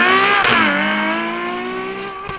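Ferrari 812 Superfast V12 engine roaring loud and close under hard acceleration on the track, its pitch dipping briefly during a gear change then climbing steadily with a strong harmonic whine, tyres faintly squealing.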